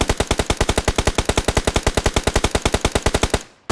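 Automatic rifle fire in the battle royale game PUBG Mobile: a loud, rapid, evenly spaced burst of about thirty shots lasting over three seconds, then an abrupt stop.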